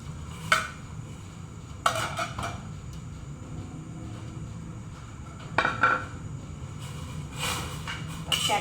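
Sweet potato leaves are stirred in a cooking pot, with a few scraping and clattering bursts of a utensil against the pot over a low background hum.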